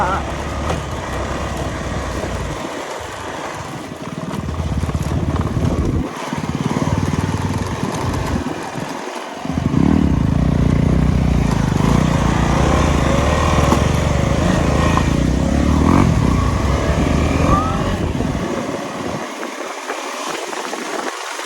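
A Honda ADV 250 motorcycle engine drones loudly and steadily, surging and dropping as it rides off-road over rough, dusty ground, with brief dips in the noise.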